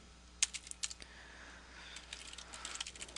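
Someone types on a computer keyboard while installing a Half-Life server on Linux. A burst of quick clicking keystrokes comes first, then scattered softer taps over a faint steady hum, close and quiet with no talk.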